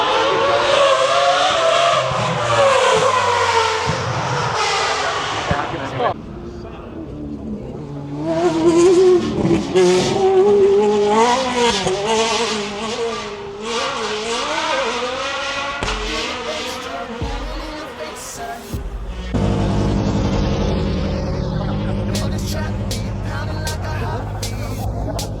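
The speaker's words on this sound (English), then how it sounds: "Every time a car goes past, you're completely covered in dust." Race cars blast past on the Goodwood Festival of Speed hill climb, their engine notes loud and close, rising and falling in pitch as each one passes, while people talk over the roar.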